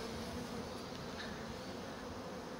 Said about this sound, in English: we do still have a lot of bees outside the hive